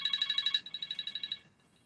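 A phone rings with a rapid warbling electronic trill, loud and close, pulsing steadily for over a second before cutting off, with no talk over it.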